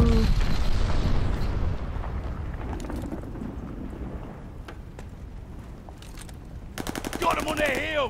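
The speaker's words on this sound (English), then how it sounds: "Enemy glide bomb coming in hot!" An enemy glide bomb strike in Call of Duty Vanguard rumbles as a loud, sustained roar of explosions and debris that slowly fades, then rapid gunfire crackles near the end.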